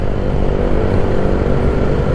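A truck rumbling past on the road near a gas station, a loud, steady broadband engine roar with no voices.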